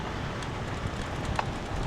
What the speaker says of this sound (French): Il y a du vent en pleine tronche